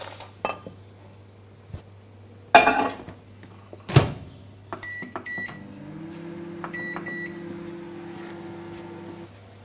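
A microwave oven runs with a steady low hum while omochi dough is reheated, preceded by a couple of clattering dish knocks and a door clunk, with short beeps from the panel; no talking.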